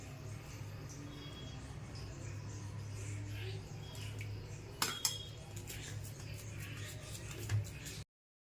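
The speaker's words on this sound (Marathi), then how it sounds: "हे मिश्रण आहे ते ताटामध्ये आपल्याला चांगलं पसरून घ्यायचं आहे" Coconut barfi mixture being pressed and spread across a metal plate, with soft scraping and occasional sharp clinks of a utensil against the plate, fairly quiet and close.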